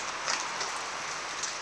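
Steady rain falls outdoors at a market, a dense, even hiss with a few slightly louder patters and no voices.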